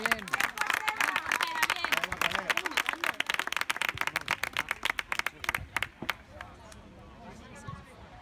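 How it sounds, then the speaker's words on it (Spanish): A crowd claps for the goalkeeper at a Fontsanta versus Viladecans football match, with fast, dense clapping that thins out into a few scattered claps near the end while people talk. "Venga, un aplauso a la portera."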